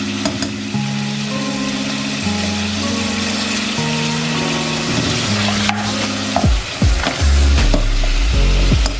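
Mutton pieces frying in a pan for mutton kunna give a loud, continuous sizzle with sustained tonal hum beneath, and heavier clattering stirs and scrapes in the last few seconds; no one speaks.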